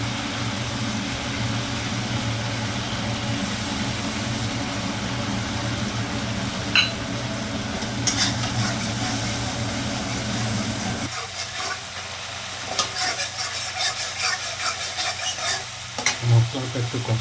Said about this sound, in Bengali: মশলাটা একটু কষাবো